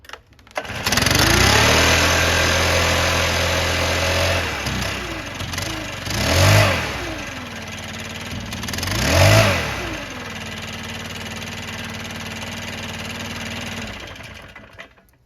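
A Stihl BR600 backpack blower engine runs loud and close after servicing of its valves, throttle cable and carburetor. It holds a steady buzzing idle, revs up twice in brief surges, then settles back to an even idle.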